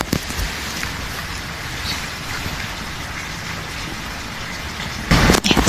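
Rain falls with a steady, dense hiss throughout, and the downpour surges louder for the last half second.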